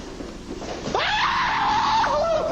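A man lets out a sudden scream of fright on a job site: a sharp rising cry that holds as a loud, sustained wail for over a second before trailing off, with no other voices.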